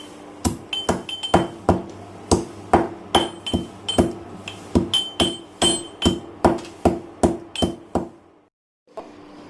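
Dry ginger and a cinnamon stick being coarsely crushed in a mortar, the pestle striking about seventeen times in a steady, sharp rhythm, close and loud, with no talk, before stopping briefly near the end.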